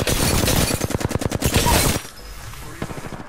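Gunfire in the battle royale shooter Apex Legends: a loud, rapid automatic burst with evenly spaced shots for about two seconds, then a few fainter distant shots.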